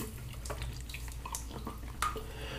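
Water splashing and dripping as shave soap is rinsed off a face at a sink, quiet irregular splashes and trickles with one brighter splash near the end.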